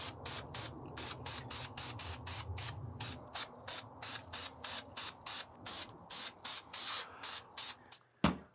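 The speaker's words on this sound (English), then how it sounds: "I gave it a couple of coats of that flat black spray paint and let it dry overnight" Krylon ultra flat camo spray paint hissing from an aerosol can onto plastic parts, in about two dozen short bursts with brief gaps, close and fairly loud, with no talking.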